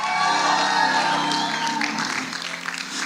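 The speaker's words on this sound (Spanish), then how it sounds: "Si usted recibe eso, denle un grito de júbilo al Señor." Congregation at a Spanish-language church miracle service shouting and cheering for joy, a loud sustained crowd roar mixed with applause and whoops that eases slightly toward the end.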